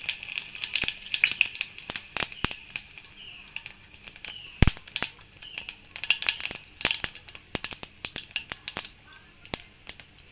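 Cumin seeds frying in hot oil, a dense run of sharp sizzling pops and crackles close up, with irregular bursts throughout and no voices.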